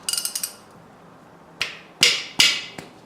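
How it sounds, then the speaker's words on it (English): Cylinder head bolts loosened on a Ford 302 V8 in a Fox Body car: a quick burst of ratchet clicks, a pause, then three sharp metallic cracks, each ringing briefly as a bolt breaks free. "let's see if we can get this head bolts"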